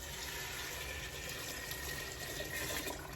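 Water pours steadily from a tap or jug into a cooking pot holding washed lentils, a continuous close rushing splash with no talking.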